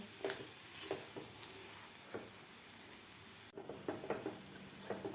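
Moong dal halwa mixture cooked with sugar in ghee is stirred in a pan. A soft steady sizzle runs under it, with intermittent scraping strokes of a spoon, and there is a brief dip partway through.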